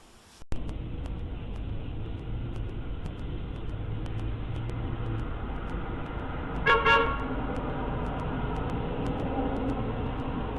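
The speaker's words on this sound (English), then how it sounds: "the stalker's going to blow the horn" A short car horn toot sounds once at middle distance over a steady background of traffic and street rumble on a dead-end residential street in Australia.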